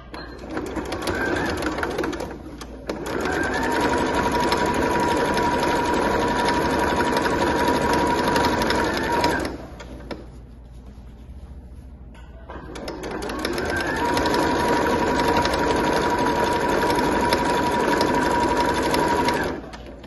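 A sewing machine with a presser foot stitches fabric for a multipurpose pouch with a French seam. Two long bursts of steady, close, loud whirring are split by a brief pause, with no talk.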